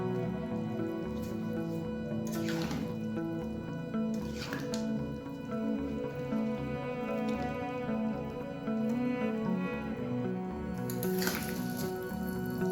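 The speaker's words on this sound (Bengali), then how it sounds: "এবার সবটাকে খুব ভালোভাবে নেড়ে নেব।" Coarse-grained sugar and jujube pickle being stirred in a pan, wet squishy dripping and stickiness under a steady background hum, with a few sharper scraping clicks spread through the clip, close and moderately loud.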